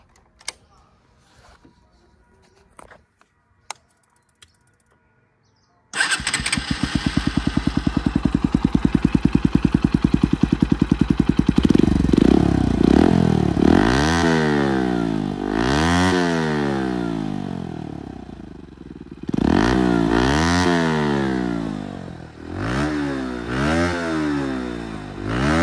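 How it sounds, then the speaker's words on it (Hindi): A modified Bajaj Pulsar NS125 motorcycle fires up after a quiet start, then idles with a loud, raspy aftermarket exhaust note and is blipped repeatedly through sharp, rising-and-falling revs, close by. "तो अभी मैं आपको इसका एग्जॉस्ट नोट सुना देता हूँ।"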